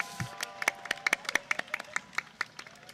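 A scattering of hand claps from a small group at a homecoming parade, irregular and sparse, with sharp individual claps over a faint background murmur.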